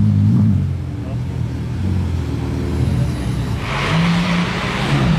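Red Ferrari sports car engine revving near a hotel entrance, a loud rumbling idle with a revving surge, under people talking.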